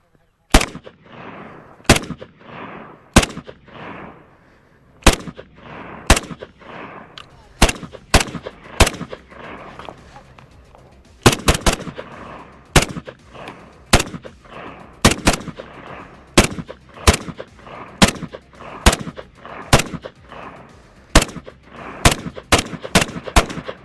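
A SIG Spear .308 rifle fired in a steady string of loud, sharp shots, over twenty reports spaced about a second apart with brief pauses, each crack ringing out on its own with no talk between.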